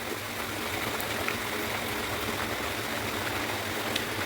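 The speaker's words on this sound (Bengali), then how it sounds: "আমার ঝোলের জালটা ভালো করে উঠে গেছে, ফুটে গেছে ভালো করে" Fish curry broth (jhol) at a full boil in a pan gives a steady, even bubbling hiss, close and continuous, with no break or voice.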